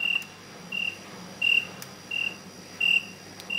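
Cricket chirps from a baby swing's built-in sound effects repeat in short, evenly spaced bursts, about five over a few seconds, clear and steady above a faint hiss.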